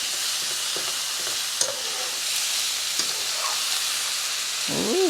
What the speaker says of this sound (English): We're gonna stir it and then let all of the fat melt it.